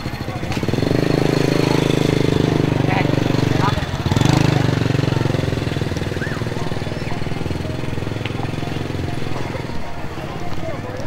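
A motorcycle engine runs loudly nearby in a car-free-day street area, holding a steady rough drone, dipping briefly and then settling into a lower idle. Voices talk over it.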